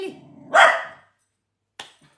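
A household dog gives one loud, close bark followed by a shorter, fainter yip after a brief silence.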